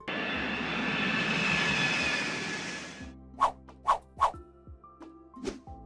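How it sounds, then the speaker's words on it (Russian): Aircraft engine roar builds loudly for about three seconds, as at the start of a takeoff run, then cuts to a few sharp knocks and short tones. "А теперь пристегните ремни безопасности, мы взлетаем."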